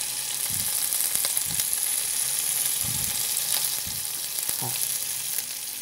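Green curry paste sizzles and fries in a hot pan while being stirred, a steady loud crackling hiss with intermittent soft scraping stir strokes throughout, no voices.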